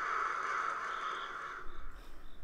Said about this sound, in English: That actually kind of creeped me out when the crows went off.